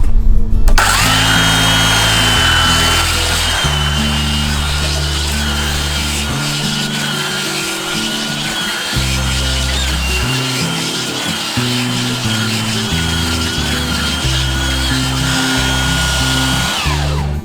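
A belt sander working over an outdoor workbench: a loud, steady motor whine with an abrasive rasp that shifts in pitch and roughness as the sander moves across the wood, running continuously with no talk.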